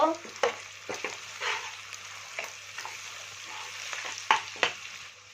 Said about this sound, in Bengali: এবার বন্ধুরা দিয়ে ভালো করে একটু নেড়ে নেব